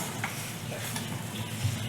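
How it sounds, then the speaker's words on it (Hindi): Coconut and dry fruit burfi mixture being stirred steadily in a pan over low gas, a continuous soft scraping and faint sizzle with no pauses. "अब हम इसे प्रॉपर चलाते रहेंगे, रुकेंगे नहीं।"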